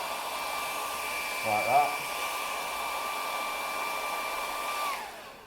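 A heat gun blows a steady, even stream of hot air onto vinyl being lifted off a surface, a constant close whir with a brief murmured voice partway through before the motor winds down at the end.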